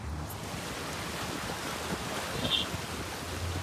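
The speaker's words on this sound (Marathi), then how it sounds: "जाम पाणी आहे. निस्ता तुफान उडतो." Heavy rainwater rushes at Malshej Ghat as a steady, faint, broadband roar that barely changes, with no voices.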